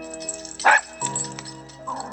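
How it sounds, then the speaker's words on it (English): A small dog yips and barks in brief bursts, a sharp close yelp near the start and a softer whine toward the end, over a quiet musical background. "a small black dog with twinkling eyes and silky hair, made Dorothy happy"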